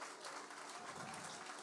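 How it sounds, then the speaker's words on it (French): Parents in an audience applaud children at a family celebration, a brief, dense, even wash of clapping heard at a distance and fairly faint. "Vous pouvez les applaudir, hein?"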